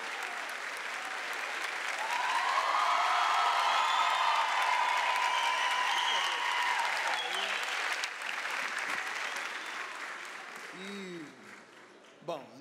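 A crowd claps steadily for several seconds, the applause swelling and then fading, with a voice speaking near the end.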